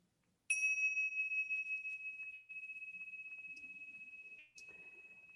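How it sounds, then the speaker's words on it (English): A single meditation bell is struck once and rings out in a clear, sustained tone that slowly fades over several seconds, with soft pulsing in the decay, in a quiet room. "So here's the bell."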